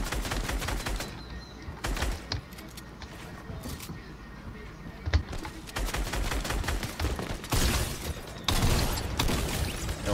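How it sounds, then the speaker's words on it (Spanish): Shotgun fire in the Fortnite video game sounds as several sharp bursts and rapid blasts scattered through the clip, mixed with other game noise at moderate level. "Escopetazo limpio."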